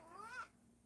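A cat gives a single short, faint meow indoors, rising and then falling away.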